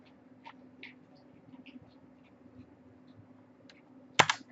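Sparse keystrokes click on a computer keyboard, a few soft taps spread apart and then one sharp, loud clack near the end, with a faint steady hum behind them.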